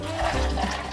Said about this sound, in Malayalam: ഒരു ഗ്ലാസ് വെള്ളം ഒഴിച്ച് കൊടുക്കാം